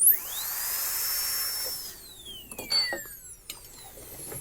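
A dental drill with a burr shaping a tooth whines at a high pitch, steady and close, then winds down around the two-second mark and is followed by a few faint clicks and short whirs.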